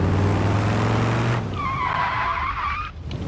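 In a driving game, a car's engine drones loudly, then tires squeal and skid in a sustained high screech as the wheels spin, loud and close.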